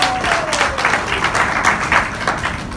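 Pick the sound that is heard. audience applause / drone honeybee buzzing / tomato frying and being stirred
audience applause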